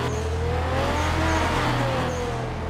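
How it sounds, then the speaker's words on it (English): A car engine revs steadily and loudly in the video game Night Runners, its pitch rising and falling in a continuous growl, with no voices. "Oh, I can rev my car"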